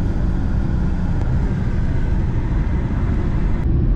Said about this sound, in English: right now we're driving up to Crested Butte, Colorado